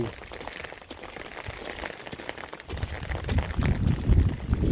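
Heavy rain pours down in a steady, dense hiss that grows louder and rumbles more in the second half, with no voices.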